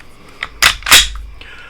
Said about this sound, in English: Typical Glock kind of mushy trigger pull right through there,